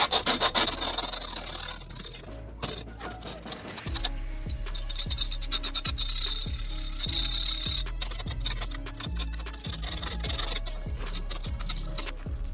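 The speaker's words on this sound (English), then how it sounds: "Take a file and clean this up a little bit because I want it as smooth as possible." Strokes of a metal file across an aluminum U-channel for an RV or trailer rain gutter, a rapid series of rasping scrapes, close and steady, repeating with brief gaps between passes.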